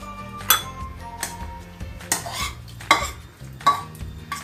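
Cleaned anchovies drop into a hot pan for fish curry, a few bursts of sizzling spatter mixed with clinks and scrapes of utensils on the pan, close and irregular.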